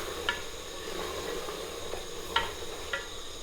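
Country chicken curry bubbling and frying in oil, a soft steady sizzle with a few faint spoon taps against the pot, close and quiet.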